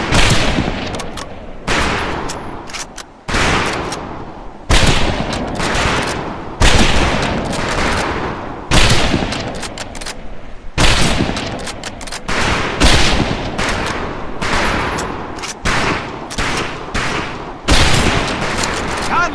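Rifle range volley fire in Medal of Honor: Pacific Assault, loud close rifle shots cracking repeatedly at roughly one- to two-second intervals, each followed by a lingering reverberant tail, with faint voices now and then.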